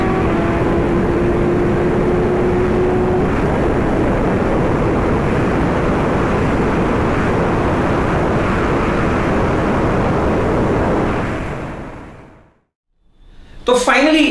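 Motorbike cruising on a highway on freshly filled XP 100 fuel, a steady loud rush of engine and wind noise for about eleven seconds that fades away to near silence before a brief burst returns.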